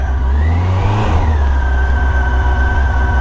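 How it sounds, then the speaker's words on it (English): A motorcycle's cold engine warms up at a steady, low, rumbling idle with a slight rise in revs early on, close and continuous with no voices. "Take it easy at first here. This engine's got to warm up."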